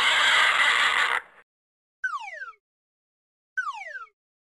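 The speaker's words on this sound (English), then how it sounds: "Pig." A pig lets out a harsh, shrill squeal of about a second, loud and close, followed by two short, sliding, whistle-like game tones.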